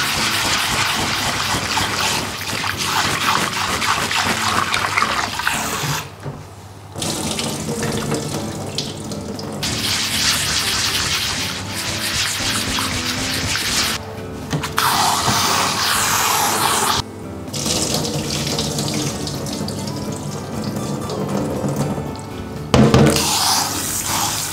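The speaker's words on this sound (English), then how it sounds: "Wash rice." Running water from a tap splashes steadily into a sink while rice is washed, broken by several short pauses where the flow stops before resuming close by.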